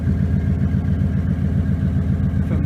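A restored 1956 Ford Thunderbird's engine idles while still cold, a steady, smooth low rumble with an even exhaust pulse, close and loud throughout with no talk.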